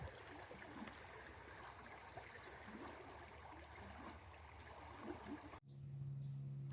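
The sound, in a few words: flowing stream water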